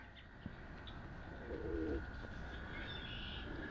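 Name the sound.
unusual bird call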